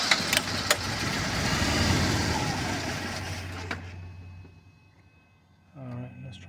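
A 1998 Bentley Brooklands R with a fuelling problem churns on the starter for about four seconds in a dense, steady roar, then cuts to near silence before a voice speaks.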